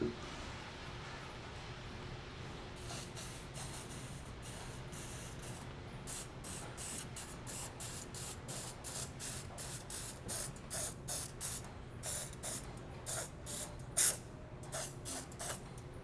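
Spray painting a repair on a Mirage LYNX, a run of short, sharp hissing bursts in uneven rhythm over a low steady background, close and moderately loud.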